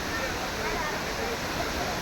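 Water rushing strongly after rain at Kodaikanal, a steady, dense roar like a waterfall or swollen stream, loud and unbroken throughout.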